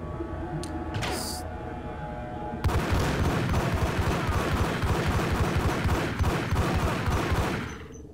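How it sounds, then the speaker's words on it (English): Ingram submachine gun fire in the Max Payne PC game: after a few brief sounds, a long stretch of rapid automatic bursts hammers on loud and steady for about five seconds and then cuts off. "That's an Ingram sound."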